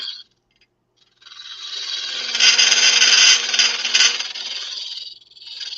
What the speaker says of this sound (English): With that little tiny 6mm cutter, that really does hog it out.